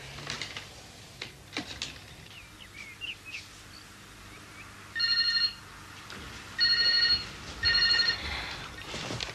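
A telephone rings in a quiet room, three short electronic bursts separated by pauses, clear and moderately close with faint background sounds between rings.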